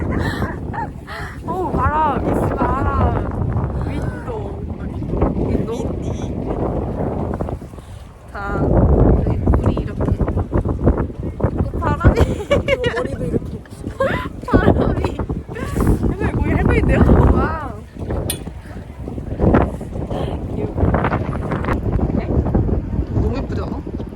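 Strong gusts of wind batter the microphone at Sokcho Beach, roaring loudly and almost continuously with brief lulls, while someone talks over it and crows caw in the background.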